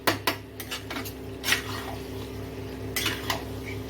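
Chicken pieces tipped into a cooking pan with spiced vegetables and stirred in, giving sharp metallic clinks and scrapes of a utensil against the pan over a faint steady background hum, with several distinct knocks spread across the stretch.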